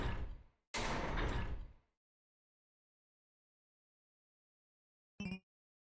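A door opening in the video game Full-Hilt: two loud bursts of sound in quick succession at the start, then a long silence before a brief fainter sound near the end.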